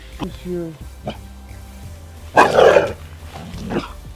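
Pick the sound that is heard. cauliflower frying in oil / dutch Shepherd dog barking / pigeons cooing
dutch Shepherd dog barking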